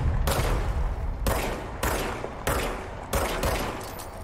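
Gunshots from the player's weapon in the action game Control, five loud, sharp reports spaced roughly half a second to a second apart, each with a booming decaying tail, close and without talk.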